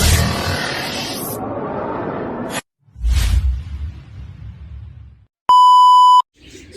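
A pigeon racing clock gives a single loud, steady electronic beep as a returning racing pigeon is clocked, following a burst of whooshing noise and a rustling thump.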